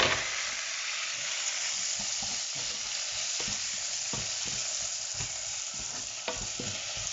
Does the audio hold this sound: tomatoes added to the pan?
yes